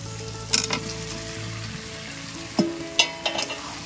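Young jackfruit and potato frying in goat fat, a steady sizzle throughout with a few sharp scraping stirs of a spatula against the pan, no voices.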